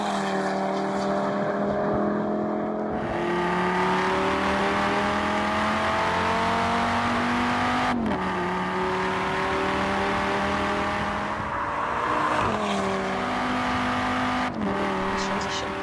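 Audi car engine in Forza Horizon 4 droning steadily and loud, with rising revs and sharp gear-shift dips around the eighth, twelfth and fifteenth seconds; people talk over it.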